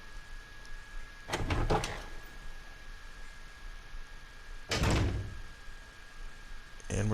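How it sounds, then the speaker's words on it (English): Two separate bursts of a heavy door unlatching and swinging open in the Resident Evil 0 training facility, each a short loud clatter over a quiet hum-laden ambience, with a faint third sound at the end. "And now Rebecca has unlocked this door."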